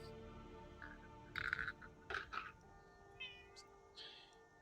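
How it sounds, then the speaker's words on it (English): A pet cat meows a few times, short and fairly close, in a quiet room, with gaps between the calls. "Was that your Kitty. cat?"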